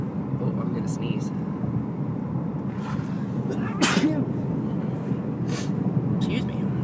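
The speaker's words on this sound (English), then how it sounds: "Oh, I'm gonna sneeze." One short, sharp human sneeze cuts through a steady low outdoor rumble of distant traffic, fairly close but not loud.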